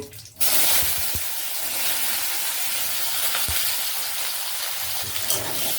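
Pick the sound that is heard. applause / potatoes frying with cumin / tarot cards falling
potatoes frying with cumin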